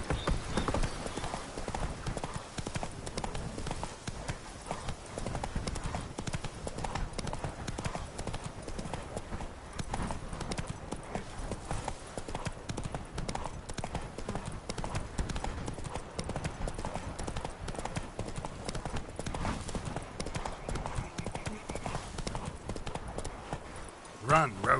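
Horse hooves clip-clop at a steady gallop in The Witcher 3: Wild Hunt, Blood and Wine expansion, a continuous drumming rhythm that runs throughout, with a rider's shouts and voices over it.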